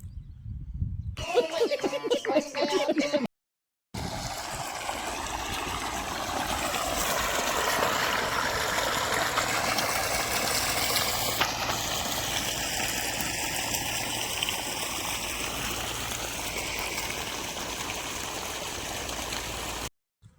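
Irrigation water rushes into a millet field in a steady, continuous flow with a low engine-like hum beneath it, after a brief burst of other sound at the start.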